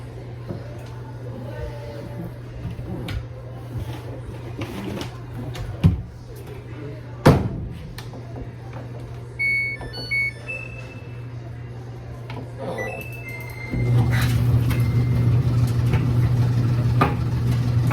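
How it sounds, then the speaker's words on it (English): A household washing machine is loaded for a rinse cycle. A few sharp door and lid thumps sound over a low hum, then the machine starts and a louder steady drone takes over. "this next load is just going in for a rinse cycle"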